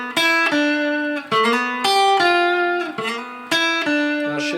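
Electric guitar playing a blues lead over a dominant 7 chord shape: bright sustained notes and sliding double-stops in short phrases, close and alone.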